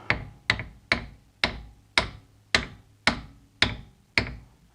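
Eight evenly spaced, hard metallic hammer blows on a BMW E46 front lower control arm, ringing out one after another, close and loud, with short decays and no talking.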